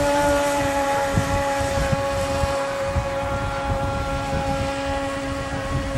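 Small RC boat, a former Walmart model refitted with new components, running on water with its electric motor giving a steady, high, even whine over wind and water noise, no talking.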